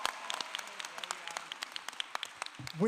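Audience applause at a Kean University graduate commencement ceremony in 2022, steady clapping from a large seated crowd with dense sharp claps throughout, moderately loud, ending with a brief voice.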